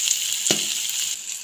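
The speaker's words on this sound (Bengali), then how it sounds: "দু তিনটে চেরা কাঁচা লঙ্কা এখন দিয়ে দিচ্ছি।" Slit green chillies tossed into hot oil with a mixed roasted spice blend for a fish-head curry give a steady, bright sizzle, with a sharp burst of crackling as they hit the pan, then continued hissing frying.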